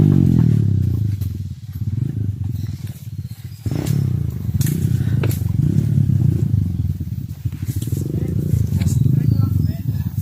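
Motorcycle engine droning steadily up close on a straight, hilly road, its low rumble rising and falling with the throttle; people talk over it throughout.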